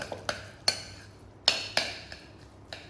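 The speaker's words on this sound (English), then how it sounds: "So we're mixing the egg through the ricotta." Egg being mixed through ricotta in a bowl for homemade ricotta gnocchi, heard as several sharp utensil scrapes and clinks against the bowl at an uneven pace, close and fairly quiet with no talking.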